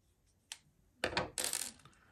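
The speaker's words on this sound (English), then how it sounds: "let me get this line cut off" A Ned-rig fishing line is cut off close by, giving a few sharp little clicks followed by a brief rustling burst, with quiet pauses in between.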